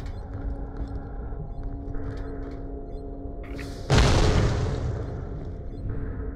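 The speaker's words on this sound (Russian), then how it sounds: "установи детонатор, и все будет готово для взрыва" A detonated charge exploding in the video game Borderlands: The Pre-Sequel, a single loud sudden boom that decays over a couple of seconds, over steady game background hum with no speech.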